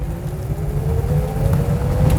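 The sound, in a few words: rare vintage car engine revving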